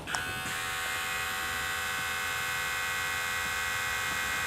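Steady electric buzzing hum of two body trimmers, a Manscaped Lawn Mower 4.0 and a Manspot, running, starting just after a brief click and continuing evenly and close throughout.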